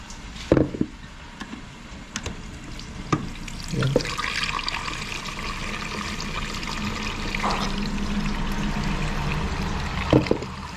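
Water runs from a tap and pours into a pot of pork pieces for boiling, a soft steady trickle with a few clanks and knocks of cookware in a home kitchen.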